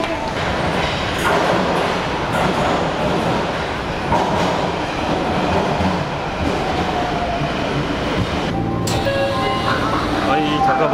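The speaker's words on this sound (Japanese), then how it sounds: "電車来たね" A Nagoya subway train rumbles loudly into a station, steady rolling noise with squealing brakes near the end, voices faintly underneath.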